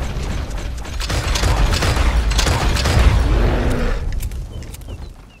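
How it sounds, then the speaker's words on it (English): Incendiary ammo gunfire in Red Dead Redemption 2, a loud mechanical rattle of shots and flaring bursts that swells over a few seconds and then fades. "You just need to pull the trigger. And the incendiary ammo will do the rest."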